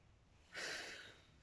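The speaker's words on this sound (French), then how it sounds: "J'exagère ma respiration pour que vous calez aussi." One sharp, exaggerated breath pushed out forcefully during a karate front-kick exercise, a brief loud hiss alone in a quiet room.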